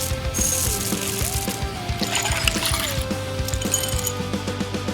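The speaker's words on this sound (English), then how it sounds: "Use it to make a container and fill it with all those water beads." Tiny water beads pour and clink into a handmade can container, a close, continuous rattling and ticking with a sliding tone running underneath.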